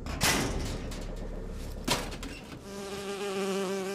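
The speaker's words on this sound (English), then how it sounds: "Oh, it's a bee." Bee buzzing in the video game Bioshock Infinite, a loud close drone with two sharp thuds before it, then a steady tonal hum holding on at the end.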